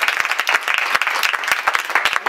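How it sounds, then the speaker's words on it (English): An indoor audience gives a round of applause at a live show, a dense, loud burst of many hands clapping at once with no voices over it. "if we could give her a round of applause"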